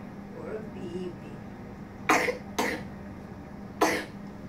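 A voice speaks faintly, then three sharp coughs from a very young child ring out close by, two in quick succession and one a moment later.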